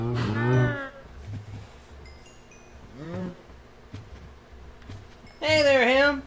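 Cows in Minecraft Bedrock Edition give three separate moos, loud and near, spread across the stretch with a faint background hum and no talking.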